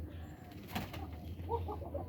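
A large Koka pigeon coos softly a few times in the second half, faint against a low steady background hum.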